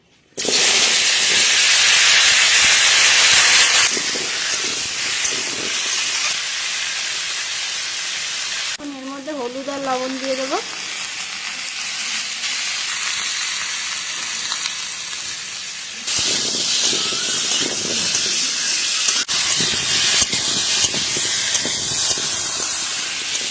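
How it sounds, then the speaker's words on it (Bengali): Loud, steady sizzling hiss of potato and pumpkin frying in hot oil, continuous throughout, with a brief tonal whine partway through. "এখন ওই তেলের মধ্যে আলু আর কুমড়োটা ভেজে নেবো"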